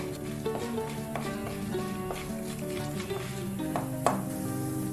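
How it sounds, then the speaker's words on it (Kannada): Chana dal and urad dal fry in oil, a close crackling sizzle with a run of light taps and scrapes from stirring, one louder knock near the end, and no speech. "ಇದನ್ನು ಸ್ವಲ್ಪ ಹೊತ್ತು ಫ್ರೈ ಮಾಡ್ಕೋಬೇಕು."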